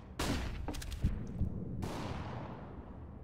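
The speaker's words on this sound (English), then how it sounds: "Grenade out. Deploying flashbang." A flashbang grenade detonates in Counter-Strike: Global Offensive with a sharp burst, followed by a sustained ringing hiss that fades slowly, along with a few thuds of other game action.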